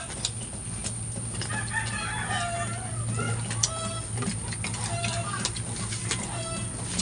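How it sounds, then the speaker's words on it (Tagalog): Chickens cluck and chatter nearby in scattered bursts over a steady low background hum, with occasional sharper squawks. "Dami pa namang manok dito nakabitaw."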